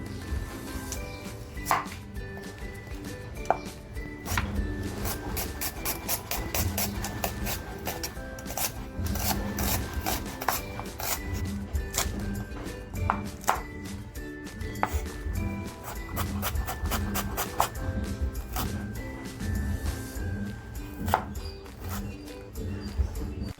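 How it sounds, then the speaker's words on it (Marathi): A knife chops onion, green chili and ginger on a board in rapid, steady strokes, with close, crisp repeated taps and scraping continuing throughout. "बघा मी कांदा कापून घेतलेला आहे इकडे मिरची आणि अद्रक कापून घेतलेलं आहे"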